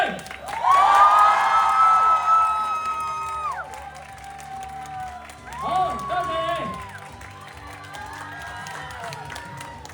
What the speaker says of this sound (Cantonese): 再次俾最大嘅掌聲，鼓掌！